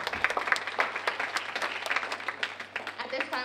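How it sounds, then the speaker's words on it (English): A round of audience applause at a student government civic engagement event, crisp scattered claps from a modest crowd, fairly close and lively, lasting a few seconds. "can we give one more round of applause to everyone who's already presented in front of you all?"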